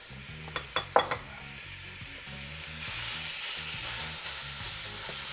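Ground beef sizzling in a hot pan, a few sharp scraping stirs near the start, then a steady, louder frying hiss that swells and keeps going with no talking.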